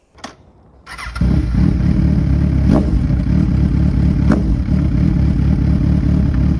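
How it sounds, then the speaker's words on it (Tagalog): A Kawasaki Z1000 motorcycle starts with a quick crank and catches, then settles into a loud, close, steady rumbling idle with a couple of brief sharp clicks on top. "Ikot-ikot natin dito para mas mapil nyo yung vibes ng motor"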